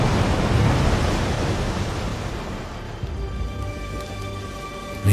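Broad, steady ocean surf wash fills the scene, a continuous roar of waves with a faint low rumble, ending in a sudden louder swell.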